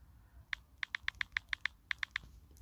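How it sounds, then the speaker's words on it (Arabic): Taps on a smartphone's on-screen keyboard while editing a photo in Snapseed, about a dozen crisp, evenly spaced clicks in a short run, close and clear over faint background noise with no talking. "انا لو كتبت هنا ساندي اوت دور شوت"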